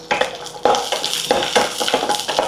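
Six dry red chillies sizzling in a single drop of oil in a pan, a close, steady crackle with scraping stirs and utensil clinks against the pan, no voices.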